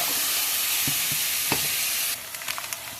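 Meat browns in a pan for shepherd's pie with a loud, steady sizzle and a few utensil knocks, then the hiss drops suddenly and leaves scattered clicks and taps.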